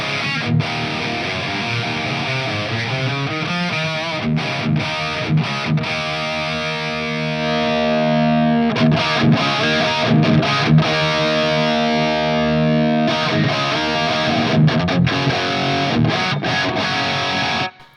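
Distorted electric guitar through a Greenback speaker cabinet driven by a Fender Tonemaster Pro, chugging loud and continuous, with choppy rhythmic stops and sustained chords, a scooped midrange tone.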